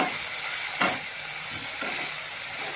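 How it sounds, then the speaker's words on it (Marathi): Methi and pathri greens sautéing in a pan, a dense continuous sizzling hiss with a couple of brief stirring scrapes, close up and with no voices. "त्याला छान अजून एक मिनिट दोन मिनिट परतून घेऊ"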